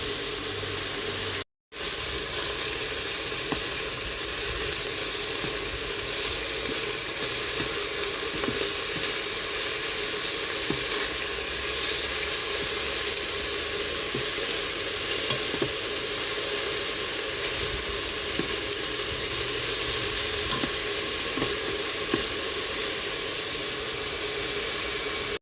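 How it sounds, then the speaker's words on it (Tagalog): Chicken pieces brown skin-side down in a pot, giving a loud, dense, continuous sizzle that barely changes. There is one brief cut to silence near the start and no talking. "I-brown natin yung skin niya para di madurog"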